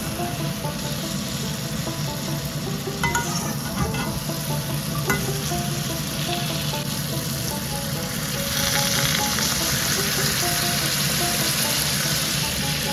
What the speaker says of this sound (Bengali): তারপর ভেজে রাখা পুঁটি মাছগুলোকে দিয়ে দিচ্ছি। এবার হালকা করে নেড়ে কষিয়ে নিচ্ছি।